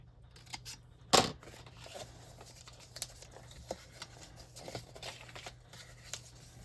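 A Sizzix paper trimmer gives a sharp, brief cutting rasp, followed by faint scattered taps, rustles and handling clicks of paper at close range in a quiet room, with no talking.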